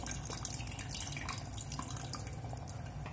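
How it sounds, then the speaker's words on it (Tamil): Tamarind water poured into cooked lentils for hotel-style idli sambar, a steady close trickling, splashing stream running throughout without pause, no talking. "அதை நல்லா கரைச்சி எடுத்துக்குவோம், அதை பருப்பில் சேர்க்கணும். புளி தண்ணியை சேர்த்துக்கலாம்."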